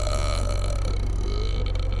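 The captain in the video game Inspector Schmidt lets out a long, loud, rumbling burp, close and sustained for about two seconds with a steady low drone.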